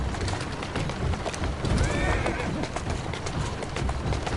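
A horse neighs and gallops in Assassin's Creed Syndicate on PS5, with a whinny in the middle over running hoofbeats, mixed with game voices talking.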